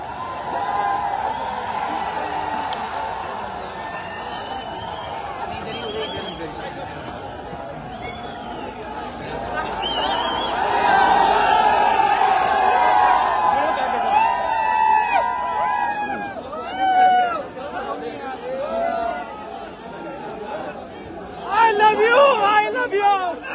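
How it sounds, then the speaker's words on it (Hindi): Large crowd gathered at a cafe in Jaipur, a dense hubbub of many overlapping voices and chatter throughout, swelling louder in the middle and near the end, with some nearer voices standing out. "भीड़ बहुत ज्यादा हो गई"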